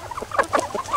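A chicken of the Asil breed, the oldest domesticated chicken, clucks in a quick run of close, uneven calls with no talk over it.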